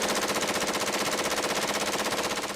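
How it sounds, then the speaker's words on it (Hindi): A rapid, continuous burst of automatic gunfire rattles in a fast, even rhythm for a few seconds, loud and unbroken, with no voices. "ताबड़तोड़ गोलियों की आवाज जरूर सुनाई दी"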